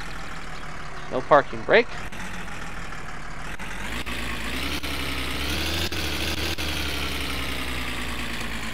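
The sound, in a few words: car engine idling in video game My Summer Car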